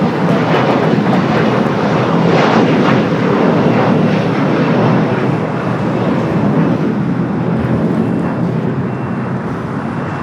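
An Air Tahiti Nui airliner arriving at Los Angeles International Airport gives a loud, steady jet roar that holds strong for the whole stretch and eases only slightly at the end, with no talk.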